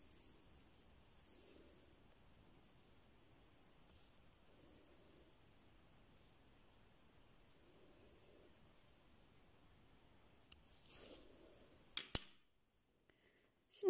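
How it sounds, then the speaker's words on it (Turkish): Scissors snip excess yarn during needle lace work, a few faint quiet clicks in an otherwise hushed room, ending with a sharper cut and a brief clatter. "şuradaki fazla olan ipimi de hemen keseceğim"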